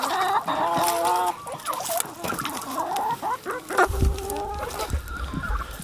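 Slow-growing white broiler hens cluck and squawk close by in a chicken tract while one hen is caught, busy overlapping calls with a low rumbling scuffle toward the end.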